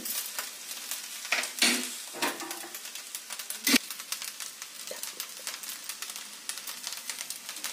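Paneer fried rice with raisins being stirred in a hot pan, giving a steady soft sizzle with irregular scraping and stirring strokes, close and moderately loud, with no talking.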